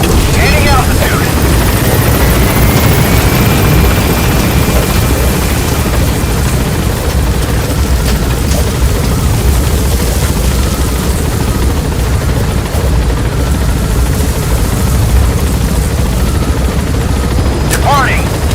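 A helicopter lifts off from a landing zone in the Metal Gear Solid V video game, its loud rotor roar steady and dense throughout, with a voice talking over it and scattered distant gunfire-like bangs.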